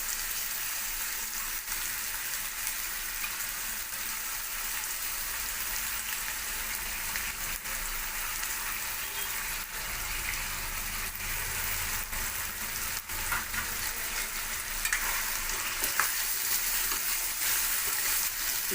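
Soaked urad dal and moong dal fry in a pan, a steady bright hissing sizzle with occasional stirring scrapes, close and continuous with no talk.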